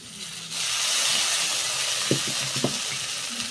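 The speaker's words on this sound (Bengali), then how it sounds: "এইবার বেটে রাখা সর্ষে দিয়ে দেব" Mustard paste hits hot oil with fried ginger and cumin in a pan, a steady broad sizzle swelling after a brief start, with a few sharp spatula scrapes and clicks near the end.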